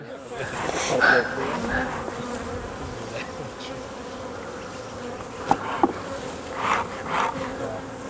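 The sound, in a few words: honey bees buzzing around a hive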